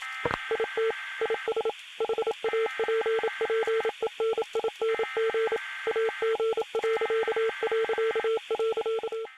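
Morse code tones in Fortnite beep alone in a clear, loud sequence of short and long pulses, with steady gaps between groups.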